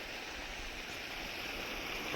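Irrigation water flows slowly through a field channel on a village farm: a steady, even rush of running water held at a constant moderate level throughout, with no voices.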